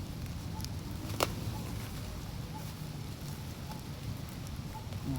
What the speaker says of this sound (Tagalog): grabe namang ulan.